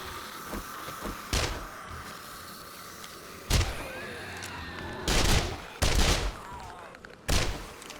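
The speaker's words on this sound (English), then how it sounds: "occasionally shoot at a zombie to keep them moving on" Short bursts of SMG fire aimed at zombies in 7 Days to Die, Alpha 20 horde night, crackle out in several loud clusters against a steady busy game background.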